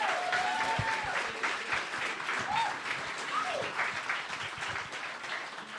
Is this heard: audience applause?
yes